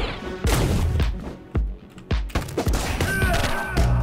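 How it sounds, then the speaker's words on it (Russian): Rapid gunshots from enemies in the action game Katana ZERO, sharp cracking bursts arriving in quick irregular clusters among thuds and crashes, loud and close, with no speech. "Он стреляет на упреждение"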